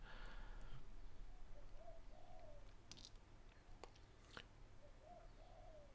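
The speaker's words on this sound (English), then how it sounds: "Yes, those are birds in the background." Soft bird calls, a few cooing notes and brief chirps, sound at a distance over a steady low outdoor hum.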